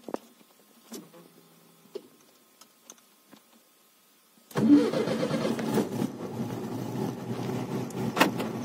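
A Volkswagen Beetle (Fusca) cold-starts on a single key turn: after a few soft clicks and a brief crank, the air-cooled engine catches and settles into a steady, close, chugging idle, with no talking.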